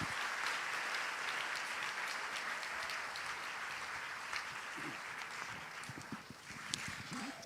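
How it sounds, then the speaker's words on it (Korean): Church congregation applauding to welcome Pastor Kim Seong-su before his sermon, a steady dense wash of many hands clapping throughout, with a few louder isolated claps near the end and no talk. "우리 박수로 크게 환영해 주셨으면 감사하겠습니다"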